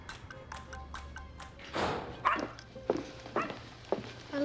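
Dogs at a doggy daycare bark and yip in short, scattered bursts, fairly faint and somewhat distant, with a few thumps in between.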